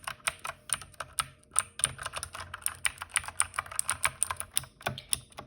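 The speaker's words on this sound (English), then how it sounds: "The only thing I don't like about the blue switches is the keyboard sound." Quick, even clatter of keys on a mechanical keyboard fitted with clicky blue switches, sharp tactile clicks repeating steadily at close range throughout, nobody talking.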